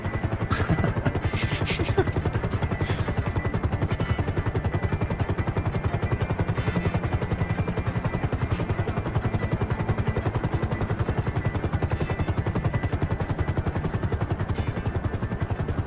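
A helicopter's rotor in the video game GTA V thumps in a fast, steady rhythm throughout, loud and close, with occasional sharp bursts layered over the whirring.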